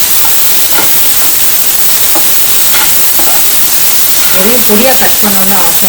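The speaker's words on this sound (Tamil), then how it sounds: "பாருங்க, குடமிளகா நல்லா வதக்கியாச்சு, வெங்காயம் பூண்டோட சேர்த்து." Cubed capsicum sautés with onion and garlic in a hot pan, giving a loud, steady, close sizzle throughout, with a few faint tonal sounds near the end.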